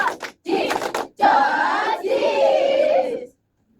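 A classroom of children does a rhythmic clap chant for classmates at the front: a few sharp claps, then loud group chanting in short bursts, close and energetic.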